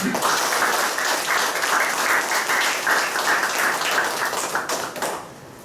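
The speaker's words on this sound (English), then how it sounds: "Let's give applause for our lovely students and teams for supporting this conference." Audience applause at a university conference closing ceremony: a dense, steady roar of many hands clapping close by for about five seconds before thinning out at the end.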